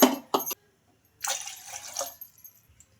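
Water poured into a cooking pot for boiling potatoes, a couple of brief splashes at the start, then a short gurgling pour of about a second that trails off into drips.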